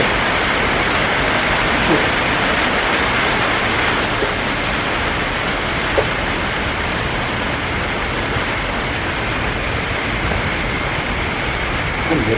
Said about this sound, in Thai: ฝนก็เริ่มตกมาอีกแล้ว